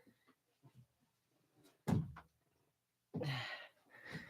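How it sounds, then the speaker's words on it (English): An indoor door is pushed shut, giving a close thud and then a second louder bump, in an otherwise quiet room. "I forgot to close the door."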